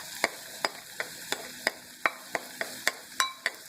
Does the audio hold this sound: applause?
no